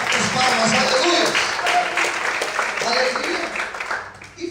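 A church congregation keeps up sustained, lively clapping that tapers slightly at the end, with a voice speaking over the applause.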